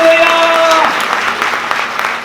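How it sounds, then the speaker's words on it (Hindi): A church congregation at a Palm Sunday service bursts into applause, a dense burst of clapping that follows a held tone and then thins out over a couple of seconds. "उसके लिए ताली बजा दीजिए ना।"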